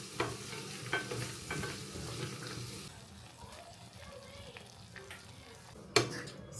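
Noodles with prawns stir-fry in a pan with a soft, continuous sizzle, broken by utensil scrapes and clinks at irregular intervals and one sharper knock near the end. Close and moderately quiet.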